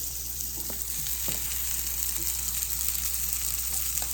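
Meatballs, Beyond Meat or a competitor's, fry in a pan with a steady close sizzle and occasional soft stirring taps, with no talking.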